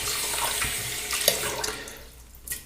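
Tap water runs steadily into a sink as hands are rinsed, a close, continuous splashing hiss with small shifts as the hands move under the stream.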